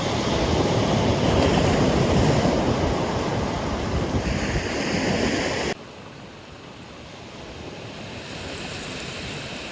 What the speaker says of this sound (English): we visit another local beach, Conway Beach